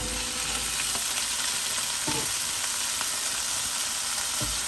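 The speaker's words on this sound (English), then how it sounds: "Now to that I'll add in my potatoes." Potatoes added to masala sizzling in a pan for a Fiji-style soya chunks curry: a dense, steady frying hiss with scattered stirring scrapes and soft thumps of pieces dropping in.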